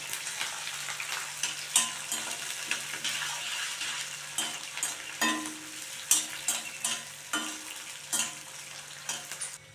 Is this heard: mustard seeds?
yes